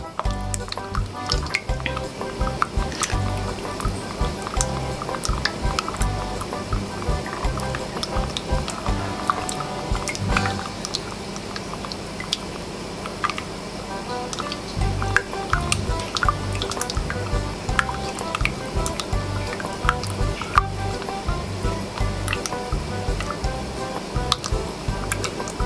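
A homemade hand cream mixture with coconut oil being stirred steadily gives a long run of small wet ticks and soft drips, unbroken and fairly close, with no talking.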